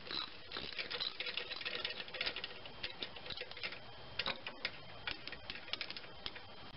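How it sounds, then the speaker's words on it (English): A wrench works a 12 mm alternator adjustment bolt counterclockwise, producing faint, close clicking and ticking in irregular quick bursts with no talk. "I'm on this 12 millimeter alternator adjustment bolt. I'm turning it counterclockwise."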